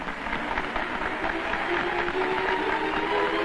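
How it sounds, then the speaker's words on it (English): Applause welcoming the Latvian delegation in the Kremlin, led by Stalin himself; a dense, steady patter of many hands clapping fills the room at even loudness throughout, with no voices over it. "The welcome for the Latvian delegation included applause from Stalin himself."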